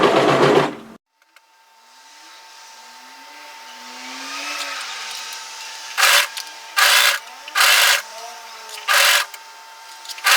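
A sewing machine stitches a hoodie sleeve in the round in short bursts of steady whirring, starting with a burst, going quiet, then firing four more quick runs near the end.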